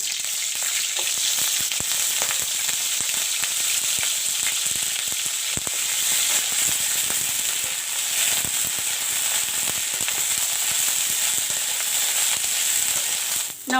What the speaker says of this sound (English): Put little bit oil. I will fry the cauliflower.